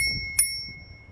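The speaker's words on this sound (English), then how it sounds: "we have a bell" Bicycle bell on a Heybike EC1 budget lightweight e-bike rings once with a bright metallic ding that sustains and slowly fades, followed by a faint soft knock.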